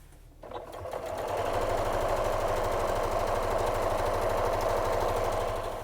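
A sewing machine stitching lines across fabric selvedge for a folding chair makeover, starting up and then running as a steady, fast, close mechanical whir with no talk.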